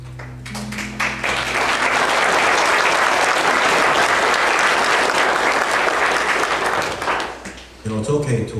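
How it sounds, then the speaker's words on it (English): A church congregation applauds loudly after a gospel song at a sermon-in-song service, steady dense clapping that swells and holds for several seconds, then tapers off as organ or keyboard chords return. "it's okay to applaud for what God is doing."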